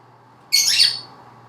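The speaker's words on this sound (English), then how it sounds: "Ruby, for instance, which is a African fisher lovebird" A single sharp, shrill squawk from a Fischer's lovebird, close and loud, over a faint steady background hum.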